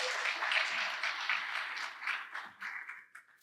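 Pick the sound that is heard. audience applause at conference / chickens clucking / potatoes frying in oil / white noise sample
audience applause at conference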